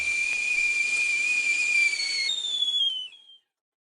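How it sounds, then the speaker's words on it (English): A shrill kettle steam whistle sound effect screams steadily and loudly with a breathy hiss, its pitch wavering slightly before it cuts off abruptly near the end. "So what that whistle means,"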